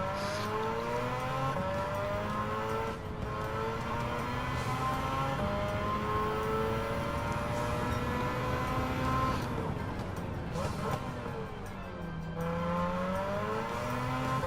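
Engine of a Mazda RX-7 racing in Gran Turismo 7, a steady high-pitched rotary whine that rises and falls through gear changes, with brief dips at shifts and another car audible nearby.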